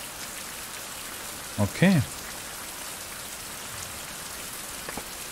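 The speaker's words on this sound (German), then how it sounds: "Und das Ding regnet jetzt wieder voll." Steady rainfall in the survival video game Fountain of Youth, a constant even hiss of drops on surfaces throughout, with someone briefly speaking over it.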